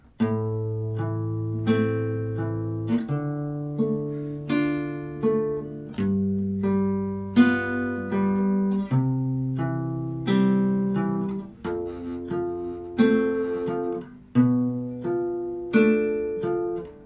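A guitar slowly arpeggiates a chord progression from a song, with clear plucked notes ringing one after another in a steady, unhurried rhythm and no voices.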